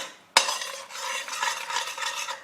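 Chicken white karahi being stirred in a pan with whole red chillies, a sudden clatter followed by continuous scraping and light sizzling, close and moderately loud with no talk.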